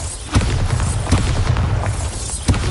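Bombarda spell explosions in the video game Hogwarts Legacy, a steady rumbling blast texture with several sharper booming thumps punched through it, loud and close.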